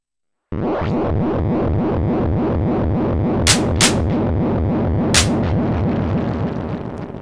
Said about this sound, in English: there occurs some internal noise, which can be used to trigger the delay, for example for some droning